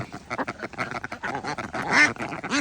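A flock of young egg-laying ducks quacks in dense, overlapping bursts, loud and close, with the calls crowding together and growing most intense toward the end.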